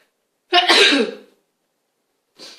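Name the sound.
sneeze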